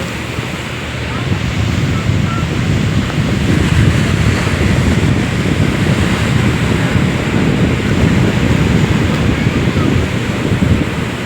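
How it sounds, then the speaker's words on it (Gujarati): Strong wind roaring across the microphone over crashing sea surf at Porbandar Chowpatty beach, a loud, continuous low rumble with rolling waves, no speech. "બહુ જ પવન અને મોજા ઉછળતા હતા"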